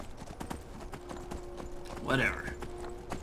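Horse hooves clip-clop steadily in Skyrim, the game's unusual shaggy-haired mount walking along at a regular pace while someone talks over the hoofbeats.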